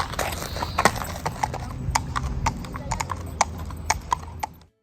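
Horse hooves clip-clop on hard ground at a romería for Santo Domingo, a close, steady rhythm of sharp strikes with more hoofbeats behind and faint voices, fading out at the end.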